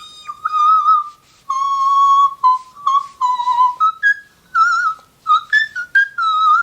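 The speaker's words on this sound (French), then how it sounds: "la voix de sifflet est devenue une obsession" A singer practises whistle-register singing in a series of very high, thin, pure sustained notes and short sliding phrases, broken by brief pauses, close and clear with no other voices.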